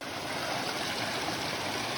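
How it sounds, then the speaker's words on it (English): Iron-reddened creek water spilling over small mini waterfalls on a mountain backpacking trail, a steady, close rushing and gurgling wash with no break and no voices. "Cool little mini waterfalls."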